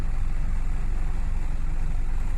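A steady, low engine rumble from a three-door Honda Civic idles evenly throughout, close and constant with no change in pace.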